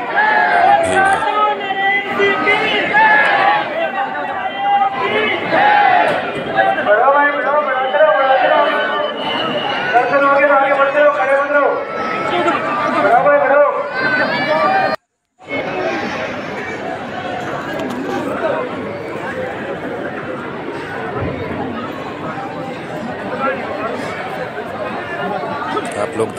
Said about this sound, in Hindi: आप लोग देख रहे होंगे कितनी भीड़ है।